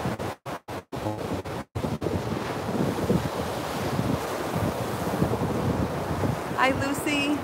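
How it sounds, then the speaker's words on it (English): Rough ocean surf churns and roars continuously while gusty wind buffets the microphone, with a brief rhythmic thumping at the start. "it's windy. The waves are rough."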